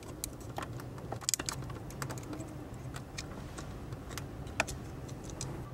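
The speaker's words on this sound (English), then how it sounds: "I'm just going to pry on that and then lift this whole thing out" A BMW E39 engine fuse box is pried out, giving a run of sharp plastic clicks and snaps, close and irregular, over a low background hum.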